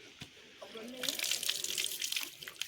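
Water runs from a tap for washing outdoors at a farm, a steady splashing rush that swells after a moment and continues under a person's talking.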